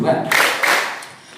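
A group at an Islamic boarding school in Setu, Bekasi claps hands in rhythm. A few sharp, close claps land in quick succession over a voice.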